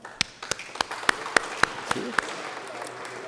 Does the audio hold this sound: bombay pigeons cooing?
no